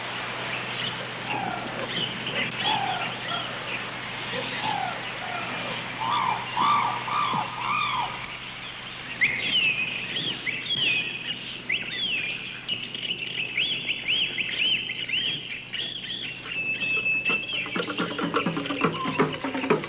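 Birdsong fills a rainforest walk with waterfalls at World Expo 88 in Australia: varied chirps, trills and whistled calls overlap continuously against a steady background hiss.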